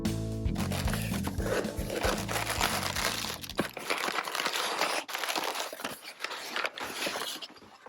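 Plastic and paper packaging around four tubes of Blick fluid acrylic paint crinkles and crunches close up, a busy run of rustling and crackling handling noises over about eight seconds.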